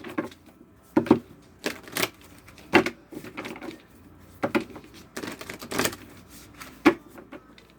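Cards being shuffled in repeated riffling bursts, crisp papery rustles and snaps coming in irregular clusters, close and fairly loud.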